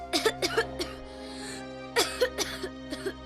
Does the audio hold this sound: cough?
yes